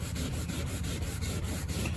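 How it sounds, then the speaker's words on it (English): A soft sponge scrubs cooktop cleaner over textured mobile home siding, a close rhythmic rubbing with quick repeated strokes, steady and moderately loud. "using the soft side of a sponge"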